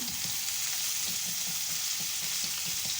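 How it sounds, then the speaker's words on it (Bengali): Shrimp frying in a pan with turmeric, chili, salt and ginger paste, a steady close sizzle with soft stirring scrapes throughout, no voices. "চিংড়ি মাছ একটু ভাজা ভাজা হয়ে আসলে"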